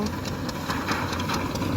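A tractor engine idles close by with a steady rumble, a continuous low mechanical drone with no pauses.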